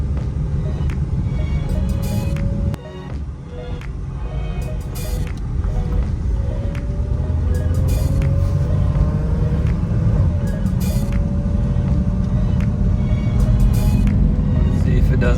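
A third-generation Toyota 4Runner drives along and accelerates, its engine and road noise making a loud, steady, close rumble throughout, with a faint rising engine tone.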